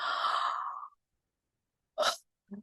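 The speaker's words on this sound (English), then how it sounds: "All you need to do is yawn for 3 times." A person yawns once, a long breathy exhale lasting under a second, followed by silence and two short, quiet breath sounds.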